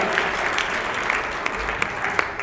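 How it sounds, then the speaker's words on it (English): Steady, dense applause from a crowd at a Western Iowa League robotics tournament finals award, a continuous close clatter of many hands with a few sharper claps standing out, with no talking over it. "Give them a big round of applause"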